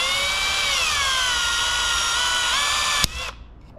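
A power drill whines loudly and steadily while drilling out a rivet on a 2013 Porsche Boxster 981, its pitch dipping slightly under load. The drill cuts off sharply near the end, leaving faint residual noise.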